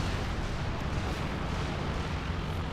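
An artillery barrage in Company of Heroes 2 comes through as a dense, continuous rumble of distant blasts merging into a steady roar, with no talk over it.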